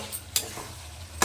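Mutton curry is stir-fried in a pot, with a low simmering sizzle under two sharp, loud scraping strokes of a spoon against the pot.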